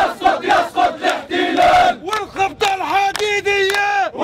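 A crowd in Jerusalem shouting in rhythmic chants, then loud, drawn-out cries and ululating calls, close and forceful with voices rising and falling together.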